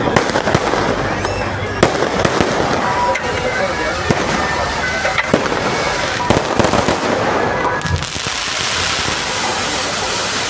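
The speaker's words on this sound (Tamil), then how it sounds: "வானத்தில் வர்ணஜாலமிட்ட கண்கவர் வானவேடிக்கைகளை மக்கள் வியந்து ரசித்தனர்." Fireworks bursting over a crowd in Tamil Nadu, with repeated sharp cracks and pops scattered through a dense, noisy background.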